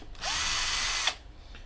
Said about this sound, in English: Let me drill some holes.